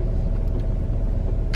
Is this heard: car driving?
yes